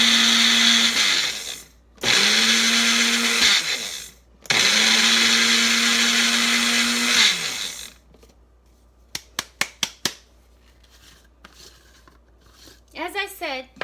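A blender pulses oats for homemade baby powder in three loud, whirring bursts separated by short pauses, then falls quiet apart from a few sharp clicks and handling noises, with a voice speaking near the end.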